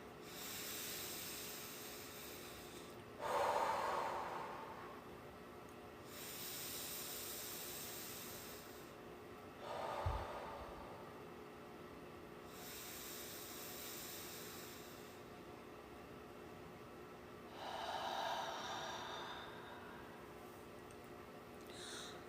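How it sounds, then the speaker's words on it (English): Slow belly breathing, in through the nose and out through the mouth, repeated three times as soft airy breaths spaced several seconds apart, faint and close against a quiet background hum. "let's practice that belly breathing. So in through your nose, fill up your belly, out through your mouth"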